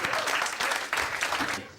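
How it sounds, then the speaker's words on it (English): Studio audience applause greets a performer on a vintage vaudeville-style TV broadcast, a steady dense clatter of many hands filling the short stretch at even loudness before tapering at the end. "please give a nice round of applause for Mr."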